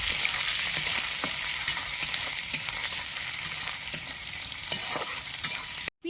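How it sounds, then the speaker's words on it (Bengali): Chopped onions and crushed garlic fry in oil in a pan, a steady hissing sizzle broken by occasional sharp spatula scrapes and taps, close and even, cutting off abruptly at the end. "দুটো পেঁয়াজ কুচিয়ে নিয়েছি তেলে দিয়ে দিচ্ছি পেঁয়াজটা একটু লাল করে ভেজে নেবো"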